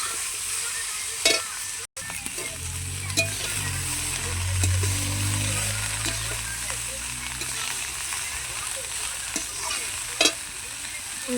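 Chopped cabbage stir-fried in hot oil for a prawn and cabbage ghonto, a steady sizzle with scattered scraping stir clicks, fairly close, with a brief dropout partway and faint background hum.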